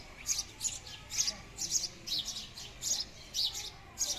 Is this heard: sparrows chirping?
yes